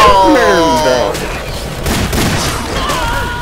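Gunfire in Left 4 Dead, a dense rapid volley of shots under excited overlapping voices and game music, loud and close throughout.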